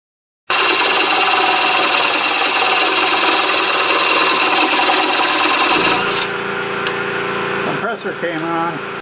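An air compressor runs in a woodturning workshop, a loud steady broadband hum that drops in level partway through and continues with faint clatter, alongside talk.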